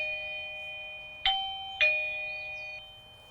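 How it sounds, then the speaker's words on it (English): A eufy front doorbell chime rings indoors, two struck ding tones a half-second apart over a steady electronic hum, each decaying slowly, with no talking. "I'm going to press my front doorbell"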